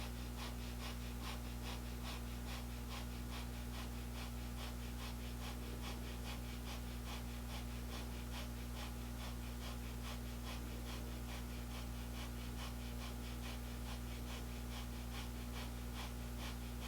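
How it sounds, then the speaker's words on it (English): Rapid, steady panting breaths of Kundalini yoga breath of fire, pumped through the nose in an even rhythm over a constant low hum, close and unbroken for the whole stretch. "Inhale, and begin breath of fire."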